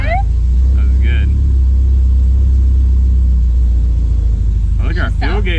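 An MGB that sat unused for ten years cranks over and catches, its engine settling into a steady low rumble that runs the whole time, with brief speech over it near the start and again near the end.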